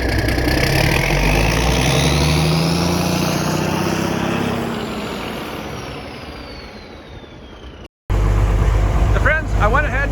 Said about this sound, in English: that's the only tractor on this whole farm that sounds like that